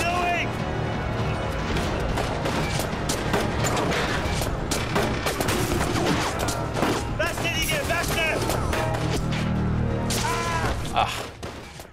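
Dense, loud volleys of gunfire burst out in the video game 1979 Revolution: Black Friday. Rapid shots and crashing impacts run almost nonstop, and voices are heard underneath.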